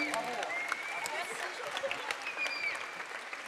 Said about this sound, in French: Bravo, on peut les applaudir pour ce premier prix.